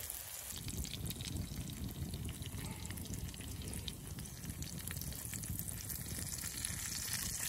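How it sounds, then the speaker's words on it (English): Steady crackling sizzle of food frying on a hot swinging bushcraft grill, a constant dense hiss with no pauses, fairly close. "Now we're cooking with grease. Get that sizzle, sizzle."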